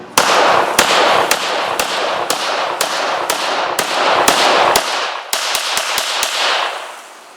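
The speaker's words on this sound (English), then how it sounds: "Let's get back to the range, run a few more mags through each, and then Jay will join me at the table" Handgun shots on a firing range from CZ-75B and Jericho 941 pistols, a steady string of sharp loud cracks at roughly regular intervals over echoing background, then a quicker final cluster.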